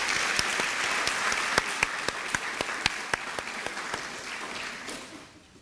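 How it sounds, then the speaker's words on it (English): An audience claps for a guest speaker at a university honors program induction ceremony; dense applause with a few sharp individual claps standing out, gradually thinning and fading away at the end. "Can everyone give Mr. Terrence another round of applause?"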